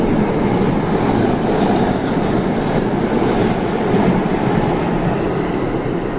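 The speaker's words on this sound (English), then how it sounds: "And here comes a train." A train passing close by at Angel Road station, a loud continuous rumble and rattling roar that holds steady throughout without any gaps.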